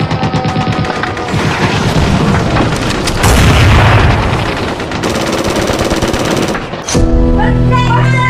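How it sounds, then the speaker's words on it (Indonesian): Battle-scene gunfire and grenade blasts during the Ambarawa battle, with dense continuous machine-gun rattle and heavy booms, loud throughout under a music bed. "Desingan peluru meriuhkan suasana, ditambah lemparan granat yang bertubi-tubi"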